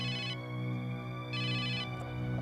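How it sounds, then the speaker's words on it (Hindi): A mobile phone ringtone plays two bursts of a bright repeating electronic melody over a sustained tonal hum, loud and close, with no talking. "अरे सिद्धार्थ, जल्दी में अपना मोबाइल भूल गया। शायद सिद्धार्थ का ही फोन हो।"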